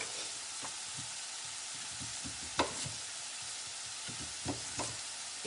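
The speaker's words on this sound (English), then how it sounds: "see how now the onion, you almost know it's starting to sweat" Chopped onion sizzles steadily in a skillet, a soft broadband hiss with scattered clicks and a few sharper spatula scrapes near the pan, no talking.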